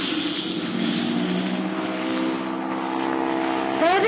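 An aircraft roars through a takeoff in a 1940s radio drama effect, a steady droning engine whose pitch slowly shifts over four seconds, ending in a rising whine.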